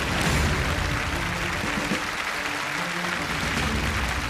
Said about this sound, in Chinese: 让我们掌声祝他们好运。